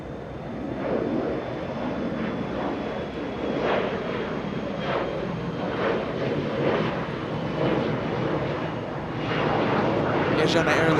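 A Boeing 767 airliner taxiing on Taxiway Hotel at Los Angeles International Airport, a steady broadband engine rumble and whine close by, with a person talking over it throughout.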